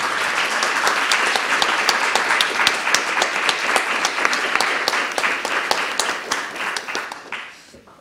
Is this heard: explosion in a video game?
no